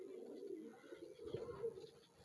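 Red-footed high-flyer pigeons cooing close by in a loft, a low continuous murmur of coos with a couple of louder swells.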